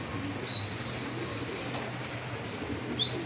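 Racing pigeons coo and chirp at a race finish, with soft low cooing under thin high whistling calls over steady background noise.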